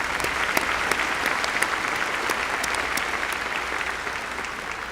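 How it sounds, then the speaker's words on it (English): Sustained, steady applause from a large commencement audience honoring the Board of Trustees, dense clapping that holds at an even level for the whole stretch with no voices over it. "we can give them another hand of applause"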